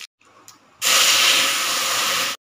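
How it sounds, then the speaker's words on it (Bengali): Black mustard seeds and dried red chilies hit hot oil in a Bengali kitchen, a couple of faint pops followed by a sudden loud, sustained sputtering hiss that cuts off abruptly. "এবার সর্ষেগুলো ফুটছে।"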